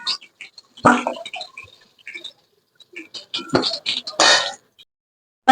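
Fried chela fish for a Bengali fish jhal are lifted out of hot oil onto a plate, giving light clinks, scrapes and faint sizzling patter in short, scattered bursts.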